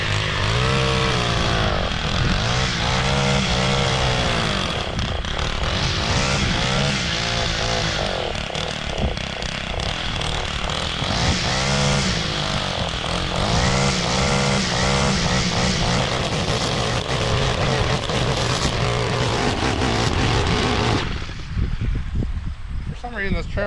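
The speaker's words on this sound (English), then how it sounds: "For some reason this trimmer did not run right" A gas string trimmer, running poorly, revs and bogs unevenly while cutting tall grass, a loud continuous two-stroke buzz that rises and falls for over twenty seconds before cutting out near the end.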